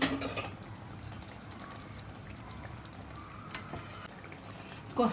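Gongura chicken curry frying in a pan gives off a steady, moderate sizzle and crackle. No voices are heard over it, and a brief louder clatter comes at the start and again near the end.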